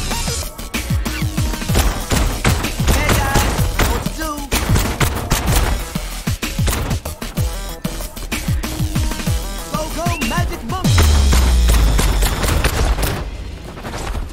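Rapid, loud gunfire from the Jumanji video game, with dense volleys of shots and bursts crackling almost nonstop, followed by a heavy impact near the end.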